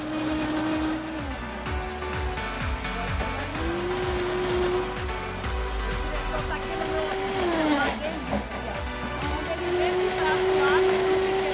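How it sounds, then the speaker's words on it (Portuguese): Kitchen blender in a TV studio, whirring through pesto ingredients with peanuts. The motor drone rises and falls in pitch as the load shifts, loud and continuous, with voices over it. "Aí agora nós vamos somente bater esses ingredientes que nós colocamos aqui no liquidificador."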